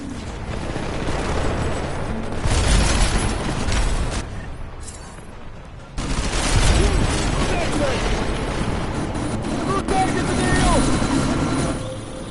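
Helicopter in the Deus Ex: Mankind Divided video game, a loud continuous rotor roar amid bursts of gunfire and combat noise, briefly dropping out midway before resuming, with voices talking over it.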